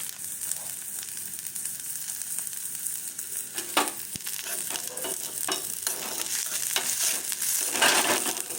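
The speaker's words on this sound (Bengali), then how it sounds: "একটু ভেজে নিই পেঁয়াজটা" Onion fries in a pan with a steady sizzle, punctuated by several clicks and scrapes from stirring that grow busier toward the end, close and unaccompanied by talk.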